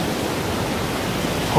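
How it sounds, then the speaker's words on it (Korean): A steady, dense rush of falling water from a valley waterfall over a deep pool in Dalgung Valley, Baemsagol, Jirisan, heard close and continuous with no voices. "계곡 폭포가 바로 여기 달궁계곡 앞에 있습니다."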